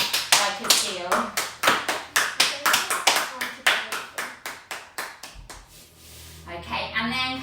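Rapid rhythmic hand claps during a children's yoga session, imitating a seal, about twenty sharp close claps in a steady run, with a softer voice murmuring near the end.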